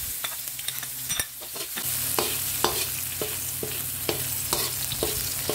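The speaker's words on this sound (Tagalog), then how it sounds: "sa mainit na palayok, maglagay tayo ng mantika. Igisa lamang natin yung bawang at sibuyas" Garlic and onion sizzle and fry in hot oil in a pot for a chicken sotanghon dish, with a steady loud sizzle and repeated sharp stirring scrapes and clinks of a utensil against the pot.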